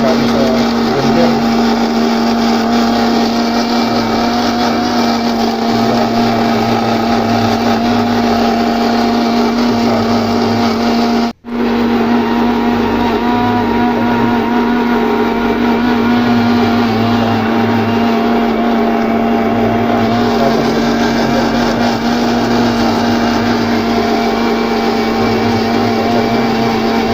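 A blender runs steadily for nearly half a minute, mixing a marinade for frozen chicken with oyster sauce for Filipino lechon manok, a loud constant motor whine with a brief cutoff near the middle.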